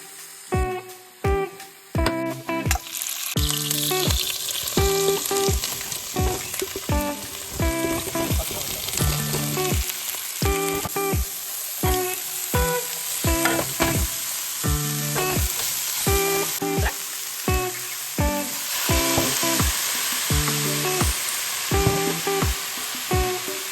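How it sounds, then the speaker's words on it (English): Tofu frying in hot oil in a pan gives a loud, continuous sizzle with crackling bursts, broken by repeated clatter and scraping of stirring throughout. "we already heated one of the pans with some oil, and then we're gonna at least let the tofu crisp up a little bit"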